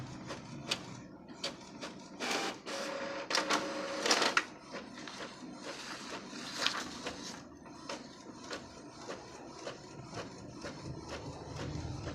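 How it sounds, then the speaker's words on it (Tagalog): An Epson inkjet printer whirs and clicks steadily, its feed mechanism ticking in quick repeated bursts with a louder mechanical rasp partway through. "Na testing na natin ang ating bagong printer"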